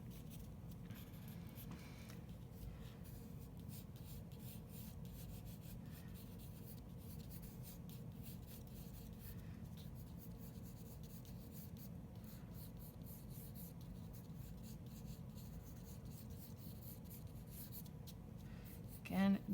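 A pencil scratches and rubs steadily across paper while a portrait is drawn, a quiet continuous scraping heard alone.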